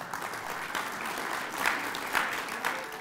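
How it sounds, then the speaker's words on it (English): Audience applause at an event honoring a first-time author, steady dense clapping at moderate volume with a few louder swells, no speech. "there will, no doubt, be continued applause for this first-time author and devoted granddaughter"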